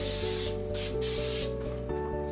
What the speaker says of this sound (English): I'm gonna spray with some Pam.